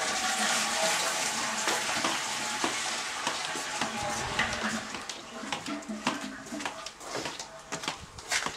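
Toilet waste water rushing through a drainage pipe in a small village with no main sewer, a loud gushing flow that thins into irregular splashes and trickles.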